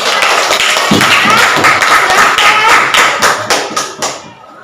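Students in a classroom clap for a group's presentation, dense, loud, close applause with sharp individual hand claps that thins out and fades at the end.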